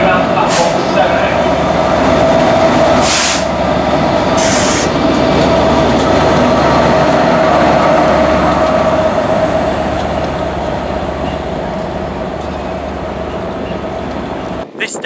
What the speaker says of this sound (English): This station right behind me here is Chester Station.